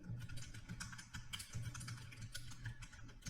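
Fingers type on a computer keyboard in a quick, soft, irregular patter of keystrokes, close up and faint, with no talking.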